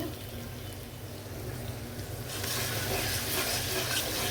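Spice paste with ginger, garlic and green chilies sautéing in a pan for a home-style chicken dish, a soft sizzle and stirring that swells into louder, brighter frying partway through.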